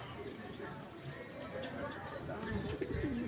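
Soft pigeon cooing sits low under a busy, noisy background, with a few faint bird calls near the end.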